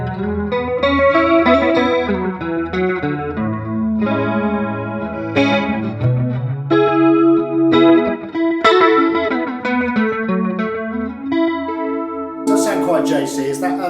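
A clean electric guitar through a Roland Cube 40XL amp, on its JC-style clean setting, plays chords and melodic runs with a bright, shimmering chorus, ending in a harsher burst of strummed notes.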